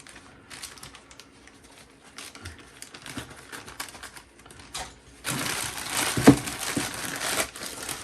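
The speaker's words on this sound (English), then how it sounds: "I think we still need to cut it more." Plastic packaging around an anime figure being cut: scattered crinkles and snips at first, then a louder, sustained stretch of crackling plastic and cutting up close.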